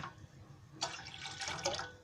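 Water splashes and pours briefly into a cooking pot on a lit stove, a short burst of liquid gurgling after a quiet start, close and fairly soft.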